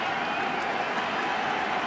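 A packed baseball stadium crowd during a 2012 NLCS Game 6 cheers and applauds in a steady, dense roar that fills the space without a break.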